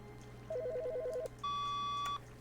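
An electronic phone ringing in The Stanley Parable: a fast warbling two-tone trill, then a steady sustained beep, loud and clear over a low background hum.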